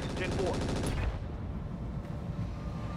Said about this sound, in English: Let's see if we get lucky with our machine guns.